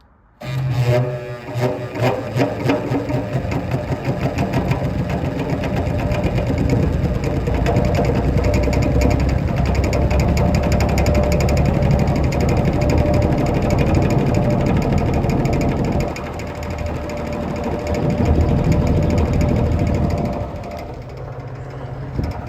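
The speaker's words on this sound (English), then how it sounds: "the fan is up and running" A vintage box fan starts up on its low speed setting. It makes a loud, steady mechanical whir with a rattling, motor-like hum that stays constant throughout, with no talking.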